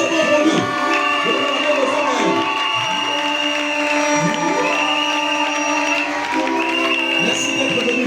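A large church crowd cheers loudly for a pastor at a religious campaign gathering, with sustained shouting, whoops and applause forming a dense continuous roar throughout, with voices mixed into it.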